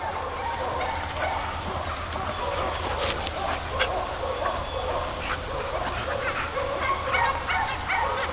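Several puppies bark and yip in an outdoor play yard, a busy, continuous chorus of sharp high yaps throughout at close range.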